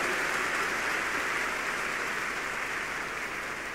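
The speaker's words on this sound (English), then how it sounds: "If you are clapping, do it well to the Lord." Church congregation clapping during a prophetic service in Nigeria, a dense, steady wash of applause at moderate distance, continuous and even throughout with no speech.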